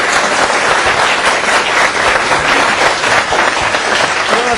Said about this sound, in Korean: 오늘 즐거우셨다면 크게 박수 치면서 이 자리 마무리하겠습니다.